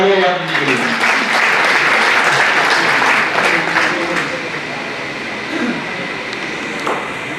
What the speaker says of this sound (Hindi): जोरदार तालियां यादव जी के लिए